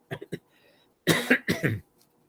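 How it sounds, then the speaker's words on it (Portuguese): A few short, rough throat-clearing bursts close to the mic, two quick ones followed by a louder double rasp, then quiet. "estou com um pigarro de fundo hoje"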